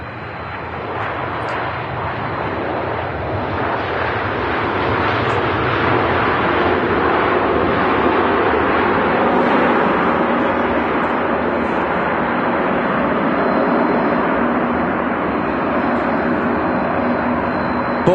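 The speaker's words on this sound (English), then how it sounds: "Qatar about to touch down." A Qatar airliner's jet engines roar steadily as it touches down at Manchester Airport, a loud, continuous broadband rumble with no speech.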